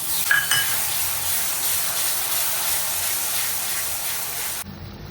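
Tomatoes added to hot oil with onion sizzle and hiss steadily in a home kitchen pan while cooking chole, a close continuous frying crackle that cuts off abruptly at the end.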